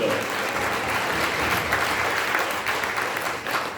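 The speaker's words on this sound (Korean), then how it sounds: "우리 유동열 원장님 큰 박수 부탁드립니다." A crowd at a book launch event in a Jongno convention hall gives steady, dense applause that holds at an even level for the whole stretch, with no break.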